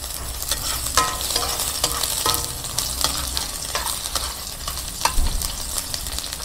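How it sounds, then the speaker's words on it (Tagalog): Onions sizzle loudly in hot oil in a pan, the constant crackle broken by the clatter of stirring, all heard close up with no talking. "Lagay po natin yung sibuyas."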